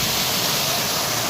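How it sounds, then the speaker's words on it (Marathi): A monsoon waterfall tumbling down the hillside in the Poladpur ghat, heard as a steady, dense roar of falling water that holds unbroken for the whole moment, with no voices over it. "घाटात उगम पावलेला हा धबधबा आज सर्वांच्या नजरात ठेवून ठेवतोय"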